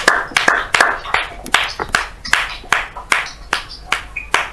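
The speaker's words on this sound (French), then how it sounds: "Nous acclamons encore pour la parole de Dieu." A church congregation claps together in acclamation, a steady series of about a dozen sharp, loud, rhythmic group claps close by, with no talking over them.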